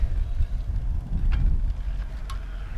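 Gusty desert wind buffets the microphone with a low, continuous rumble, rising and falling in strength, no voices present.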